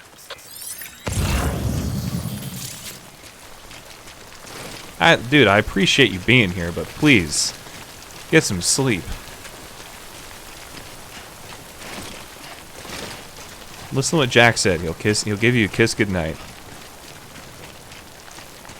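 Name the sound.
timefall rain in Death Stranding video game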